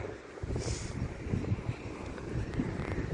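Steady wind roars and buffets the microphone on a hilltop in January, a continuous rough rumble with low gusty thumps and no voices.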